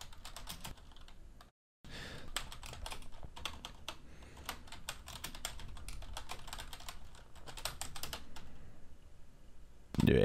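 A command being typed on a computer keyboard, a quick, close run of key clicks with one brief pause near the start, quiet and clear with no talking.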